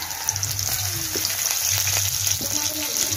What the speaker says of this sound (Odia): ଏବେ ଗରମ ହେଇଗଲାଣି ତେଲ, ପିଆଜ ପିଆଜ ପକାଇବା